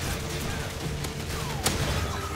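A grenade blast and gunfire in an online shooter match, heard as a dense, continuous roar of shots and explosions with one sharp crack near the end, steady and loud throughout.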